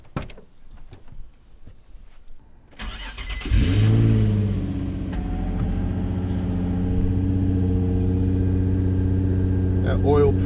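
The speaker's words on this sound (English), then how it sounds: "let's get a little cold start of the stock exhaust" A Nissan 350Z NISMO on its stock exhaust cold-starts up close: a quiet lull, a short crank, then the engine catches with a loud flare and settles into a steady, deep, rumbling idle that carries on to the end.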